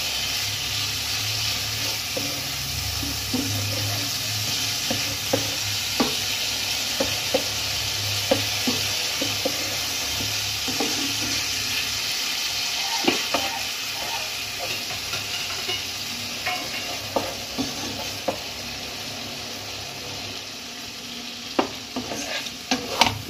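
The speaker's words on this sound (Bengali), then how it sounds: "মাছগুলোকে মশলার সঙ্গে ভালোভাবে কষবো।" Prawns for a malai curry sizzle and sputter as they are sautéed with spices in a pan, a steady hiss broken by frequent sharp crackles and scraping stirs throughout.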